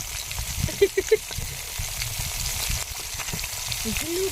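Fish frying in hot oil, giving a steady close crackling sizzle throughout with a few brief clicks and knocks over it, and no speech.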